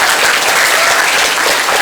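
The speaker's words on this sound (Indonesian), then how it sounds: "tunjukkan tepuk tangan Anda untuk dia." A burst of dense applause from a sizeable crowd, loud and continuous for its full length with no voices standing out.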